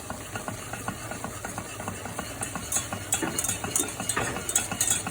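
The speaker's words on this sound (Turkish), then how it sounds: "Unumuzu güzelce kavuracağız." Flour stirred and toasted in a pan for béchamel sauce, with a steady scraping rhythm of a utensil against the pan over a low sizzle and hum, close and moderately loud, no talking.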